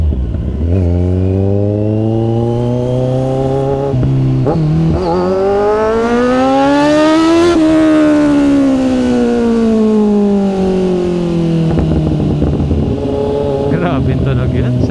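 A Kawasaki Z1000 (2016) engine revs up and back down in long sweeping rises and falls, loud and close, a smooth rising whine peaking midway then easing off, followed by idle clatter.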